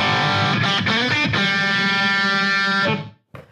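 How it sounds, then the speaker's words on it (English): A distorted electric guitar chord rings out through a Boss ME-70 multi-effects processor with reverb added, sustaining thickly for about three seconds before cutting off into a short reverberant tail and a brief final pluck. "I can add a little touch of reverb if I want."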